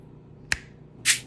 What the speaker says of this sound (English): So I'm going to snap my fingers